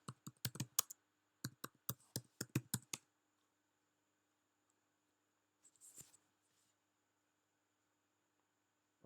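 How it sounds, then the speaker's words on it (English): Bursts of computer keyboard typing, a quick run of key clicks, a short pause, then another run, followed by near silence and a brief soft rustle, all close and quiet with no speech. "I type in."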